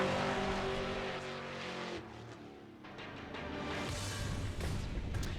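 A drift car's engine revving on track at Formula Drift qualifying in Atlanta, a loud sustained roar that dips briefly and then surges back as the throttle reopens, with smoky crowd-event ambience around it.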